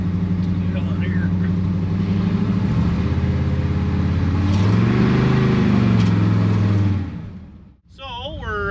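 A 1966 Chevy Biscayne being driven, its engine missing at low revs: a loud, steady, close engine drone with throbbing low tones that drops away sharply near the end.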